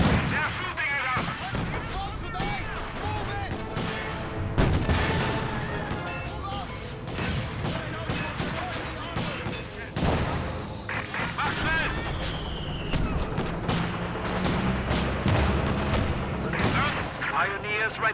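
Gunfire and artillery blasts from the World War II strategy game Company of Heroes 2, Ardennes Assault, rattle on continuously at close range, dense and loud, with voiced unit chatter and battle noise mixed in throughout.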